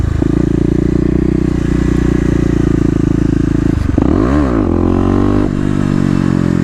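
Kawasaki KLX250 dirt bike fitted with a 13-tooth sprocket, revving hard in second gear while lifting into a wheelie: a loud, steady close engine drone that suddenly swoops up and down in pitch, then settles into a higher rev.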